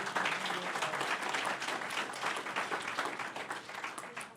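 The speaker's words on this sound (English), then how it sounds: "A round of applause for Cynthia Rosen." An audience claps at an artist forum in the Adirondacks, a dense, steady round of applause that holds at full strength for the whole stretch without dying away.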